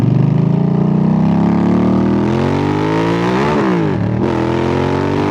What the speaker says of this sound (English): And look at here, motorcycle. More motorcycle. More motorcycles.